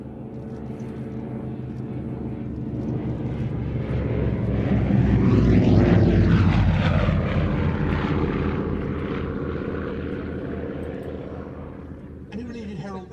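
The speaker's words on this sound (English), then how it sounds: "the next Avro aircraft in our display, the one you see here, the Avro Anson" An Avro Anson twin-engine propeller aircraft flies past at an air display, its droning engine roar swelling as it nears overhead with shifting whine and fading away, loud and continuous.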